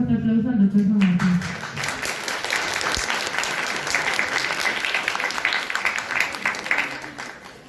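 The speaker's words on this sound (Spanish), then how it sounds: "démonos un fuerte aplauso" Academic audience at a university event breaks into applause after a brief spoken introduction, a dense, lively clapping that holds steady for several seconds.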